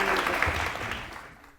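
Studio audience applause on a televised courtroom-style talk show, a dense, close wash of many clapping hands that holds steady, then tapers off at the end.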